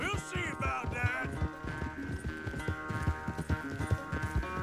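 Rapid galloping hoofbeats from a horse in the video game Red Dead Redemption 2, a dense rhythmic clip-clop under a musical score, running throughout at close range.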